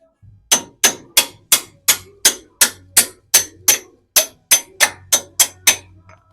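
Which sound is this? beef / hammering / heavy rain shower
hammering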